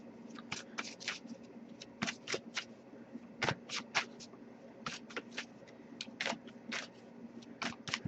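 A deck of tarot cards is shuffled by hand in repeated crisp riffling bursts, close and fairly quiet, with short pauses between the flurries and no talking.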